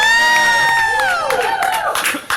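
A comedy show audience cheers, whoops and shouts loudly, a dense crowd roar with bursts of voices running throughout.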